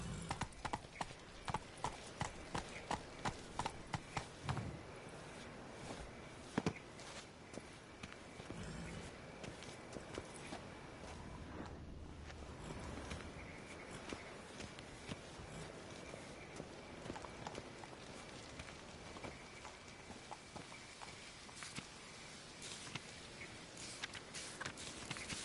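Roach, the horse in The Witcher 3, gallops with loud, steady clip-clop hooves. A sharp, rhythmic burst of hoofbeats at the start gives way to a dense, continuous run over game ambience.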